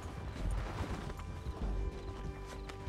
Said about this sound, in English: He's up on that horse, John.